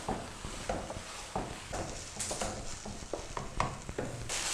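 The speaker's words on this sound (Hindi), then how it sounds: "अब हमने इसको भूनना है इस तेल में।" Grated carrots fry in oil in a pan for gajar halwa, with a steady sizzle broken by repeated scraping stirs of a spoon against the pan, close and fairly loud, with no voices.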